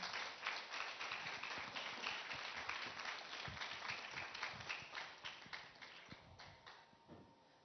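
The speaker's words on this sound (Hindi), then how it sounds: "Huge round of applause, ladies and gentlemen." An audience at the Transform Bharat conclave claps in a dense, sustained round of applause, many hands close and loud at first, then gradually thinning and fading toward the end.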